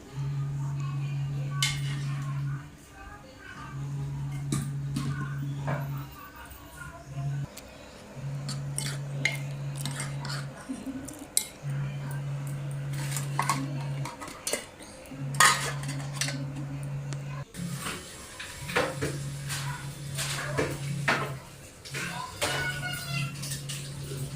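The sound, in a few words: dishes and utensils clattering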